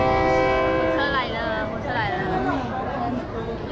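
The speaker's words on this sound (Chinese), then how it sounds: "前面这里就是火车的总站，然后它会开来这里" A train pulling into its terminal station sounds a loud sustained horn blast that then trails off into the rumble of the train, while a crowd waiting on the platform chatters throughout.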